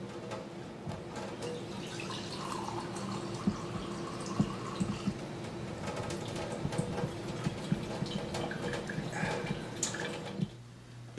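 Water running steadily from a countertop drinking-water filtration system, a soft continuous trickling stream with small splashes that stops abruptly near the end.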